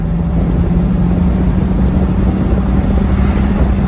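A Gen5 Camaro fitted with QA1 coilovers cruises at highway speed around 80 to 85 mph, giving a loud, steady in-cabin drone of engine and road noise with a constant low hum throughout.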